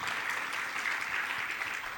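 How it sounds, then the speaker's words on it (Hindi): Steady, even applause from an audience at a religious discourse gathering, a dense wash of many hands clapping at a distance for the full stretch, fairly quiet. "एक बार जोरदार तालियां"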